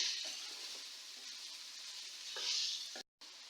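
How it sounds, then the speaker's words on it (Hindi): Onions frying in a pan give a steady soft sizzle with faint crackles, swelling slightly near the end before a brief break, with no talking. "अब प्याज को थोड़ी देर करूँगी फ्राई में।"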